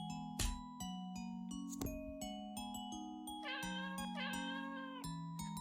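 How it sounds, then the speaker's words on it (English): A cat meowing in the video game LiEat, several clear cries and a long caterwauling wail set over steady game music, close and prominent with no talking. "that cat sound is too good."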